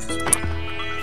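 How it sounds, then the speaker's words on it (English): Sheep in the video game Minecraft give a couple of short, close bleats with soft in-game rustling around them, no talk over it. "One sheep, two sheep,"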